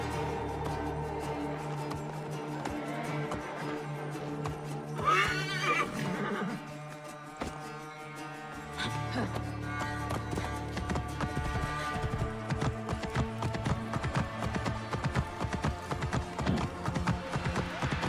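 A horse in Assassin's Creed Origins whinnies loudly mid-scene, then hooves clip-clop in a quick rhythm as it runs, all over a swelling orchestral game score.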